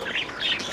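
Young birds about two months old in an aviary flight cage give a few quick high chirps and squawks in close succession, fairly clear and close, with no talking.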